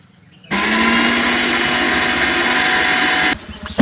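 An electric mixer grinder whirs at full speed grinding dried herbs and rose petals into powder, a loud steady motor whine starting abruptly, running about three seconds, then cutting off.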